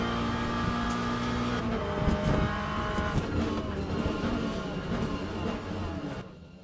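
A sim racing car on soft hydraulic suspension drives continuously, its engine note droning loud and steady with shifting revs and a brief dip toward the end, no talking over it.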